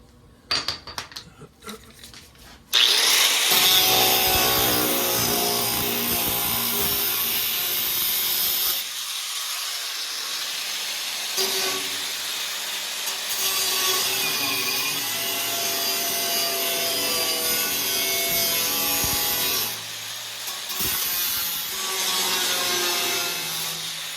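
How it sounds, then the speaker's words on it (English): A long stretch of harsh, continuous cutting on metal, a grinding rasp through a convertible brace rib on a 1969 Pontiac Firebird, stopping and restarting a few times after some brief knocks at the start. "We're going to cut that rib right out of that."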